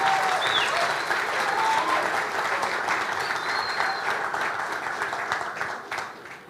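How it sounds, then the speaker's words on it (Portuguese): Church congregation giving a round of applause for people about to be baptized, dense steady clapping filling the hall and gradually fading toward the end, with a few faint voices. "podemos dar uma salva de palmas a todos aqueles que vão ser batizados hoje"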